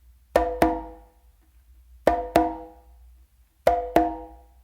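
Three pairs of open slaps on a conga, non-dominant hand then dominant hand, each pair a quick double strike with a sharp attack and a short ringing decay, evenly spaced with brief silences between, close and alone.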